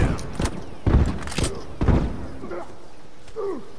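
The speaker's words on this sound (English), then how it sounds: "That was a shotgun. He was shooting that thing." Shotgun blasts during a firefight in The Last of Us, several sharp booming shots at uneven intervals with short decays, followed by quieter shuffling and faint voices.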